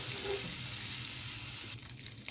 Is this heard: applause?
no